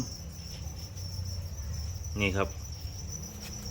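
Crickets raised in a plastic bucket farm chirp in a steady faint high trill, with a brief louder chirping burst near the middle, under low background hum and a short spoken word.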